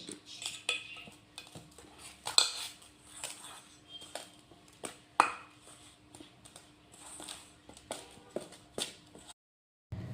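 A spoon scrapes and clinks against a metal bowl while puffed rice powder is stirred into a no-cook burfi mixture, irregular close taps and rattles with quiet pauses between.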